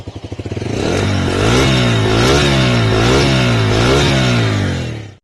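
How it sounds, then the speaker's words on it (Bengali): A Bajaj Freedom 125 CNG motorcycle starts with a few quick sputtering pulses, then settles into a loud, close exhaust note with repeated rising and falling revs before cutting off abruptly. "এখন বাইকটির এক্সস্ট নোটটি একটু শুনে নেওয়া যাক"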